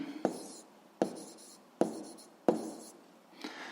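A pen writing notes by hand on paper while working a school physics exercise, four crisp strokes repeating roughly every second, close and clear, with no voices.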